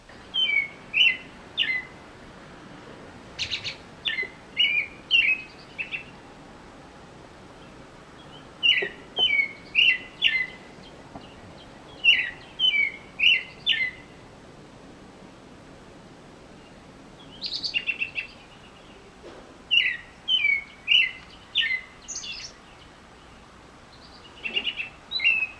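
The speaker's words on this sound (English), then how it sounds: "I don't know what it is about birds and their amazing songs." Birdsong on a spring morning: a single bird repeats short bursts of bright chirping notes, phrases separated by brief pauses, moderately close against a quiet background, with no talking.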